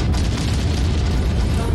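Artillery barrage explosions in MechWarrior 5: Mercenaries, a dense, continuous roar of loud booming blasts that run together with no pause and no talk.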